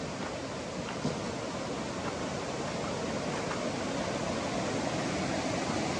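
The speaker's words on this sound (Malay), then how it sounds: "Betul-betul ada sungai kan." A river flows close by at White Stone, a dense, steady rushing wash of water with no talk, constant and fairly loud throughout.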